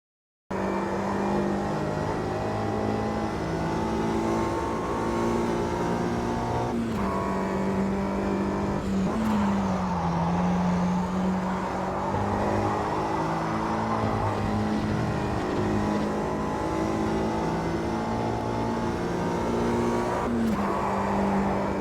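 A 1965 Mini Cooper race car in AMS2 screams around the track with a loud, continuous engine note that rises and falls through gear changes, with brief dips under braking and no talking.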